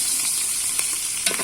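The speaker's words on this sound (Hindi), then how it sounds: "तो अभी इसमें डालेंगे हम चिकन।" Chicken frying hard in a hot pan on a home stove, a steady loud sizzle with a few brief stirring clatters, no talking.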